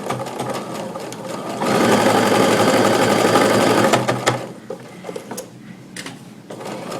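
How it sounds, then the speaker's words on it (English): A sewing machine stitches a scant quarter-inch seam on a quilt block, starting with a few slow stitches, then a loud, steady high-speed whir for about two and a half seconds, then slowing to scattered individual stitches. "I have my sewing machine set up for a scant 1/4 inch seam"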